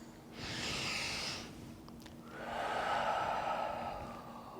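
Two forceful breaths from kids doing yoga volcano breaths, each a loud, breathy whoosh lasting about a second, the first higher and hissier, the second lower and longer, close to the mic with no talking.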